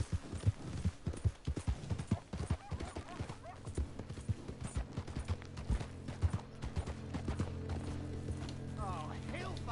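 Horse hooves clip-clop at a walking pace in Red Dead Redemption 2, rhythmic close hoofbeats with a brief whinny, partly under someone talking and game ambience.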